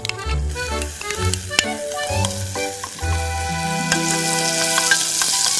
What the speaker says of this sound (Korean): 이렇게 해서 이제 볶으면은 양파가 투명해지면서 바글바글 끓으면서 기름으로 양파 향이 빠져나와요